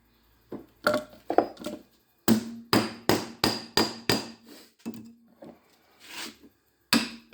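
A hammer strikes repeatedly at a wedge lodged in the iron core of a large salvaged transformer. The close, sharp metallic blows come in quick bursts, with short pauses between the groups of hits.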